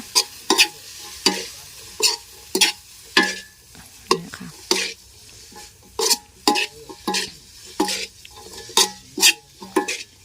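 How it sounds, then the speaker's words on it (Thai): Spicy pork with dill leaves being stir-fried in a pan: a close, repeated scrape-and-clatter of a utensil against the pan every half second or so, over a steady low sizzle, with no voices. "เอามาผัดคลุกเคล้าให้เข้ากันแค่นี้นะคะ"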